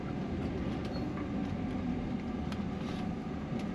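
Steady low rumble of train cars rolling past beside a road, continuous and moderately loud with faint metallic ticks, no voices.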